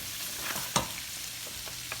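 Onions fry in a pan with a steady, close sizzle. A sharp stirring clatter stands out near the middle, and a few softer scrapes follow. No one speaks.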